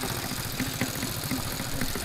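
A cub cross motorbike engine idles nearby on a farm track, a steady mid-pitched putter with a regular, slightly knocking pulse.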